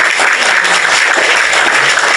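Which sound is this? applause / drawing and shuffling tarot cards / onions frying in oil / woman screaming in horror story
applause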